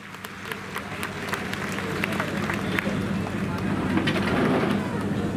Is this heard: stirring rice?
no